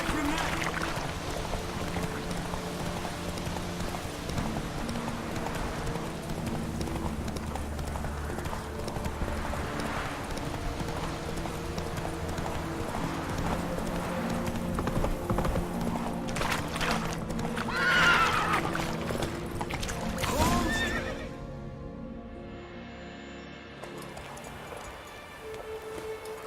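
Horse hooves clip-clop in a fast galloping rhythm with loud whinnying neighs over it in a Witcher 3 game scene, ending in a sharp cutoff and quieter ambience; brief voices are faintly present.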